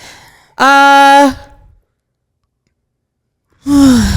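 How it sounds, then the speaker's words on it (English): A person gives a loud, drawn-out voiced yawn that slides downward in pitch. A few seconds of silence follow, and then a second yawn begins. "Please cut me yawning."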